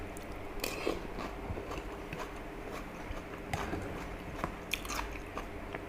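Someone eating a spicy Mama instant noodle salad, with moist chewing and occasional crisp bites repeating close to the mic over a steady low background.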